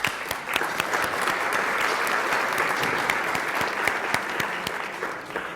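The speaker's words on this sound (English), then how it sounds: "So let's give them a round of applause." Steady audience applause fills a conference hall at a 2023 world congress event, dense clapping from a large crowd heard close and continuous without talk.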